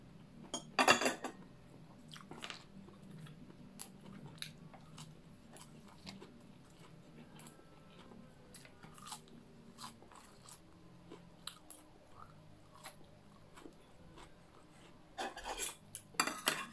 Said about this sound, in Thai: หิวแล้วค่ะกินกับขนมจีนค่ะ